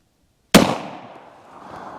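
.380 Black Hills Honey Badger 60-grain copper fluted solid rounds fired into ballistic gel produce one sharp, loud gunshot after a short silence, followed by a decaying echo tail.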